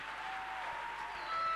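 A church congregation applauding during a Sunday worship service, a steady wash of clapping from many hands that swells slightly toward the end, with no speech.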